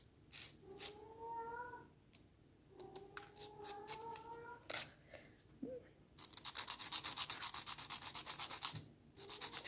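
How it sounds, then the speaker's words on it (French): Nail file rasping across a cracked fingernail, short rhythmic scraping strokes in a close, quiet setting, becoming a faster, steady bristly filing near the end, with a cat meowing briefly in between. "Je lime toujours bien l'avant."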